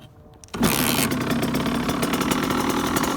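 A 2002 Suzuki RM85 dirt bike engine starts from stone cold and catches abruptly, then runs at a loud, raspy, steady idle close by, with no talking.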